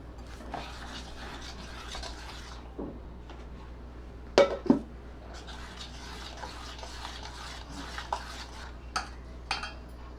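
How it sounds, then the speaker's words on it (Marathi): Poha dosa batter being mixed with sugar and salt in a bowl: a quiet spoon scrapes and stirs, with occasional sharp clinks and taps against the bowl. "आणि मीठ हे आधी सगळं मी मिक्स करून घेते"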